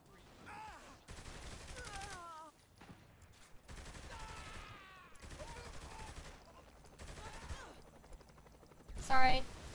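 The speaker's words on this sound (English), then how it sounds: "Firing at the gang members." Bursts of gunfire from Saints Row: The Third, with shots aimed at gang members, come in several rapid volleys of varying length, ending in a louder, sharper burst near the end, with game sounds underneath.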